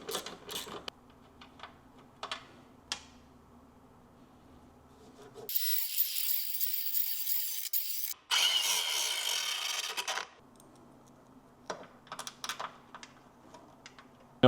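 A grinder works over metal on a car chassis near an electrical ground point, two loud harsh bursts of a few seconds each, framed by quieter clicks, taps and handling sounds before and after.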